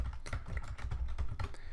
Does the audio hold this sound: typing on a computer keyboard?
yes